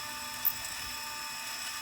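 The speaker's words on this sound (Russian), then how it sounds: "Теперь на станке можно просверлить вертикальное отверстие." A drill press boring a vertical hole with a small bit in a knife handle, heard as a steady, even high-pitched whine that runs unbroken throughout at moderate volume.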